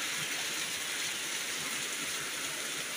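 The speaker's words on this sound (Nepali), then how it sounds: "अम्बो यस्तो डरलाग्दो पर्दिरहेछ असिना पानी" Heavy hail and rain fall in a dense, constant roar of impacts, loud and unbroken throughout, with no voices.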